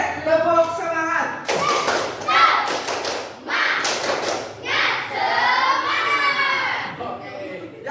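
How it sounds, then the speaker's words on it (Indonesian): A class doing the rhythmic tepuk semangat spirit clap, bursts of sharp group claps in patterned beats mixed with children chanting and voices, fairly close and lively. "Supaya tetap semangat, kita tepuk semangat dulu 1 kali."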